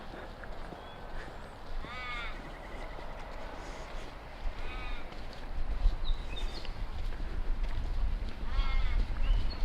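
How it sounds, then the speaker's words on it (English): Crows give a few harsh, warbling caws spaced several seconds apart, heard outdoors at Rockingham Foreshore over wind and low rumbling background noise. "the sound of the crows making funny noises"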